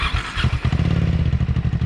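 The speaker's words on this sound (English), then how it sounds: "I have an exhaust on this thing, so you'll maybe hear a little bit more with that" Triumph Speed 400 motorcycle fitted with an aftermarket exhaust pulling away, a loud close engine note with rapid rhythmic pulses as it rides off.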